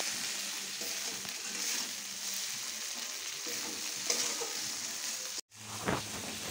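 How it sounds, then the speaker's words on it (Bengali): Spice paste fries in oil in a pan for a fish curry. The sizzle is soft and steady, with occasional stirring scrapes. It breaks off for a moment near the end, then returns with a brief clatter. "জলটা গরম হতে হতে আমি মশলাটা ভালো করে ভেজে নেব"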